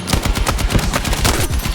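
Rapid gunfire from a shotgun in a video game, a dense run of loud, closely spaced blasts filling the whole moment with no gaps.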